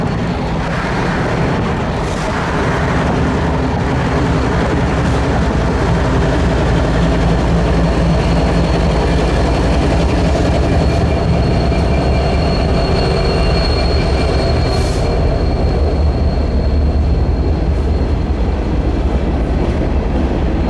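Freight train led by a GEVO with CP SD70ACu locomotive 7006 rolling through Florida's Bone Valley toward a rail yard: loud continuous rumble of engines and wheels, with faint squeals and clacking throughout.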